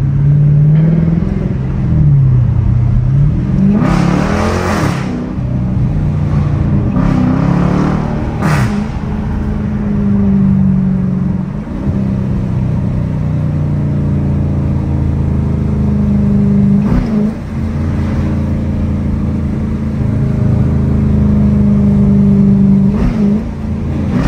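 A widebody Dodge Scat Pack with a 392 engine driven aggressively through city streets, its loud deep engine rumbling and revving continuously from inside the car, with repeated surges of acceleration.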